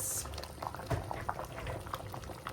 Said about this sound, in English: So we'll cover it and bring it to a boil.